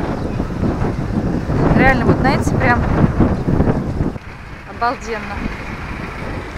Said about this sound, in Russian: Ветер бешеный.